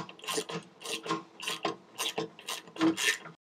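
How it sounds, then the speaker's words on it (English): Two 10 mm ring spanners tighten an M6 nylock nut on a go-kart radiator bracket, giving a close, quiet run of regular ratcheting clicks in short repeated bursts, about two per second. "we can do those two up using two 10 millimeter ring spanners"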